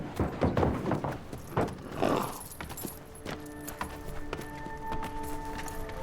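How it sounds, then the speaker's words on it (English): Bay horses' hooves clip-clop in a few uneven knocks at close range, loudest early on, then fade under a steady tonal hum. "Chico, Jeff, sort these bay horses out, would you?"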